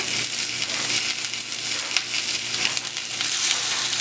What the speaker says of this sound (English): that sizzle is too high